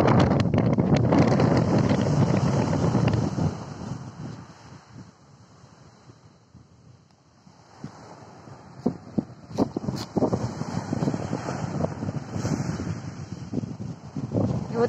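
Strong wind buffets the microphone over a stormy sea, with heavy rumbling gusts and the wash of waves that dip into a quieter lull midway before surging back loud and rough.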